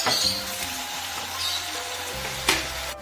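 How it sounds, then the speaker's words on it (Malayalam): Tomatoes cook in a pan with a steady, soft frying sizzle that runs the whole time at close range, with a few light clinks and a brief sharper knock near the end, and no talking. "ഒന്ന് അടച്ചു വെച്ച് തക്കാളി ഒന്ന് കുക്കായി വരട്ടെ കേട്ടോ."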